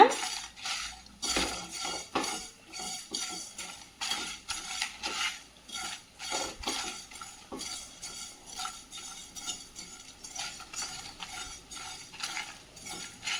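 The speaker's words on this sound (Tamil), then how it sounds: "இது எல்லாமே ட்ரை ரோஸ்ட்டாக தான் வறுக்கணும், ஆயில் விட வேண்டியதில்லை" Dry roasting ingredients for Andhra-style gongura and pulichakeerai thokku in a pan without oil, with a spoon scraping and stirring in a steady, repetitive rhythm and soft rattles of the ingredients against the metal, close and quiet.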